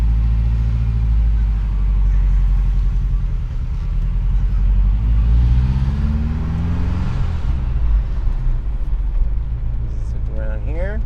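A 1986 Ferrari 328 GTS pulling away and driving around a building, its engine a deep close rumble that rises and falls as it revs through the gears, with someone talking over it throughout.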